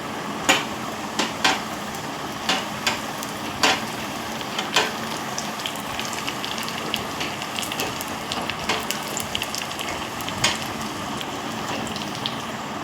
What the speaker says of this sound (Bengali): তড়কাতে আমি একটু জিরের ফোড়ন দিয়েছি, আর একটা শুকনো লঙ্কা।